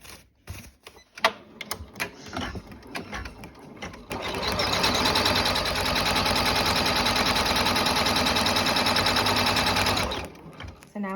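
A sewing machine stitches a towel-fabric bath mitt in one steady, loud mechanical run that lasts several seconds, after a few scattered clicks and handling sounds.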